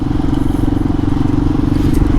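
A 2005 Kawasaki KLR 650 motorcycle rides along in warm weather, a steady close thumping engine drone with pulsing rhythm and road rumble throughout.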